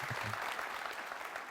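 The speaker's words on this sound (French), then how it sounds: "merci de faire plus d'applaudissements pour lui" Audience applause on a Burkinabè television entertainment show, a dense, steady wash of many hands clapping with a faint trace of voice at the start.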